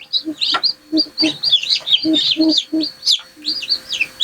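Newly hatched laying-hen chicks peep in rapid, high-pitched bursts close by in an incubator, mixed with lower, soft clucking sounds between the chirps.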